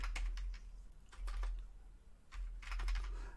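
Fingers tap on a computer keyboard in quiet bursts of quick clicks with pauses between, close by and soft, with no voices.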